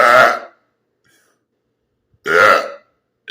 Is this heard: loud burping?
yes